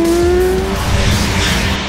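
A car tears along with a strained engine and squealing, skidding tires in the open-world crime game Sleeping Dogs, loud and close for a couple of seconds with no talking.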